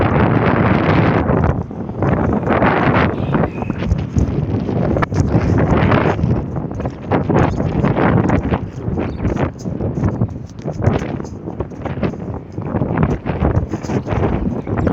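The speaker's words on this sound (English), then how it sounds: "very windy" Strong wind buffets the microphone outdoors beside a road in Nairobi, Kenya, a steady loud roar with rustling gusts that rise and fall for the whole stretch, with no talking.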